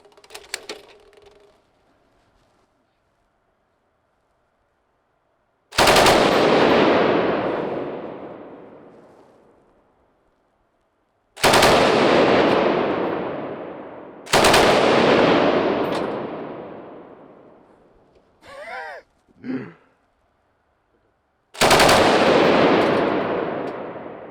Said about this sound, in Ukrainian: Це легендарний німецький кулемет МГ-43.